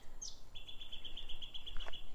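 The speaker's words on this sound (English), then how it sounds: "There's a little bird in that tree." A small bird chirps from a tree beside a river reserve and weir: a brief high call, then a rapid, steady run of tiny repeated tweets, fairly close and clear over faint outdoor ambience.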